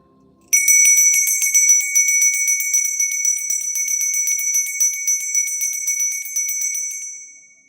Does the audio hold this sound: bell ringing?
yes